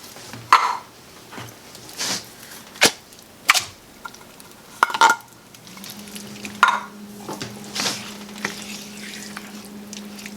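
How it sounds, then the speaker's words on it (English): Drained mushrooms drop into a pan of frying cheeseburger macaroni with a series of sharp wet clicks and splats, then a soft sizzle settles in underneath. "I'm going to add my drained mushrooms."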